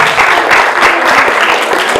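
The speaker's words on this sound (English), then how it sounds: "All right, let's give Will a round of applause." Audience at a comedy night bursts into steady, dense applause, many hands clapping close together for the whole stretch with no pause.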